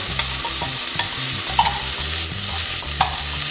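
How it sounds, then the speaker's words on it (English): Chipotle peppers from a whole can stir and sizzle loudly in a hot pan as a base for chicken tinga, with a steady close fry hiss and repeated scraping strokes of the spoon, no voices. "We're going to give those a stir."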